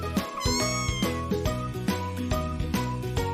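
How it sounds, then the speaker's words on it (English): A cat meows repeatedly in a children's phonics puzzle game, several short clear meows set over bright, bouncy background music with tinkling tones. "C. Cat."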